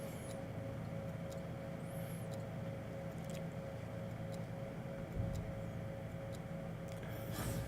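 Steady jet engine drone of a La-15 jet fighter in a flight combat video game, a constant mid-level roar with a few faint ticks and clicks scattered on top.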